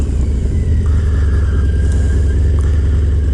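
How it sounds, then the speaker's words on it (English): A heavy truck rumbles past on a road, a loud, steady low engine drone filling the whole stretch with no talk over it. "Wait for this truck."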